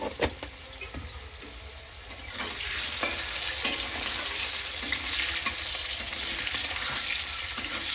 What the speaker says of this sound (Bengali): এবার আলুটা ভেজে নেব একটু হালকা।